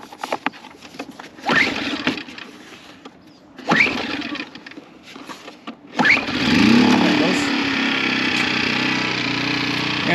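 A Predator 1400 watt generator, used to charge a 3200 watt scooter, starts after several pull attempts and then runs steadily with a loud droning engine hum, while someone talks over it.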